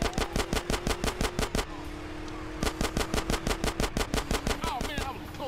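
Rapid automatic gunfire from the video game GTA: San Andreas rattles in loud, evenly spaced bursts, pausing briefly before resuming, with a steady engine drone underneath.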